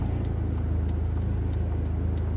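Steady low rumble of a car's engine and road noise heard from inside while driving, constant and close, with a faint regular ticking throughout.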